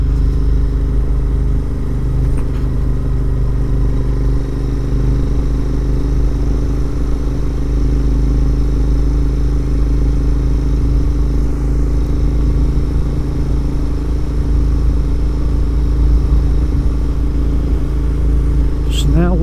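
Steady engine drone of a Royal Enfield Interceptor 650 motorcycle riding a country road near Holmbridge and Holme Moss, a constant low rumble with wind noise throughout and a faint voice over it.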